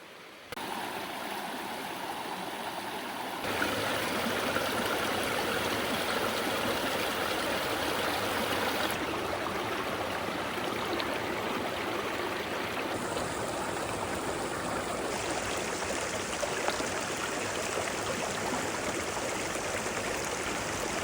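Steady rushing flow of Idaho Creek, a mountain stream along a backcountry trail, a continuous broadband wash of water heard close and moderately loud, uninterrupted and with no voices.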